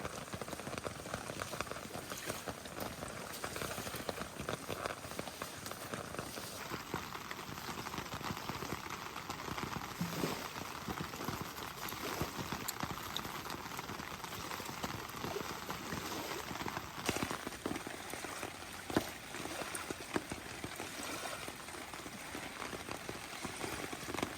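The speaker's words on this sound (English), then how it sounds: "And you guys can listen to the rain." Steady rain pattering on a surface, a soft continuous hiss with scattered drops and taps, even and fairly quiet throughout, with no voices.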